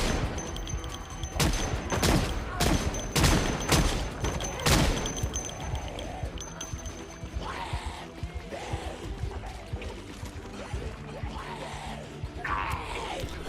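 Unsuppressed gunfire in the Project Zomboid video game: a rapid cluster of loud shots over the first five seconds, followed by lower rumbling and shuffling game noise with faint vocal groans.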